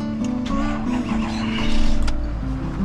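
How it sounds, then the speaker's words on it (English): A 2019 Ford F-550 truck engine runs after being started with a newly made key, giving a steady, close idle hum with a low droning tone throughout. "now this will start the car and it's going to sound like that"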